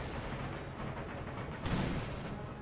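Musket fire in an American Revolution video game battle: a sharp, loud volley bursts out over a constant low battlefield roar, with fainter shots scattered before it.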